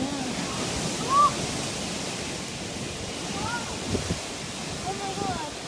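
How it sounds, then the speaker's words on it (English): Strong tornado winds roar past a residential neighborhood outside a house, a steady, full-bodied rush of moving air that never lets up, with a few faint chirps rising briefly above it. "I think this is going to be a real tornado"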